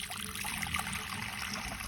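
Cold water pours into a cooled cast-iron cauldron outdoors beside a street stove, making a steady close trickle and splash that runs without pause for the whole two seconds.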